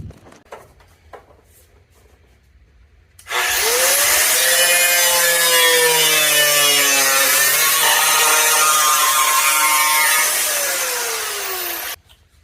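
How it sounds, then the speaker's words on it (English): A tool sands down the cut metal edge on a third-generation Camaro, producing one loud continuous abrasive grinding whir with a shifting pitch that runs for about nine seconds before cutting off, with no talk. "So I sanded that edge down so it wouldn't be so sharp."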